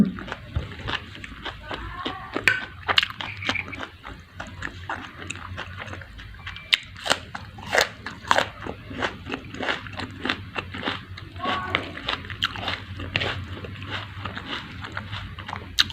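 Someone eats stir-fried basil with beef larb, making close, irregular chewing, crunching and lip smacks with short bites throughout.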